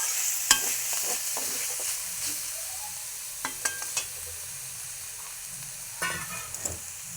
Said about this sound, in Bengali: একবারে ভাজা ভাজা করে ফেলবো